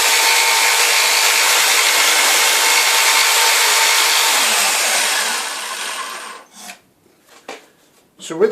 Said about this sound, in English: So I've quickly cut some slits down there with the handsaw.